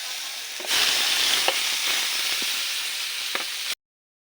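Onion paste dropped into hot oil in a kadai bursts into a loud, steady frying sizzle close by, with a few small pops and spatters before cutting off abruptly.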